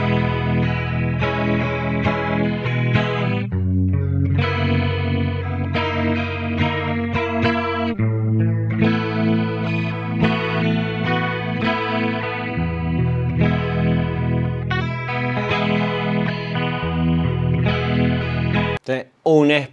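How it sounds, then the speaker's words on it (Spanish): Processed electric guitar through a compressor and a tri-stereo chorus, playing sustained chords and melodic lines with a shimmering, widened tone, loud and continuous, then a brief break and a final burst near the end. "vas a tener el compresor y además vas a tener el triestéreo chorus"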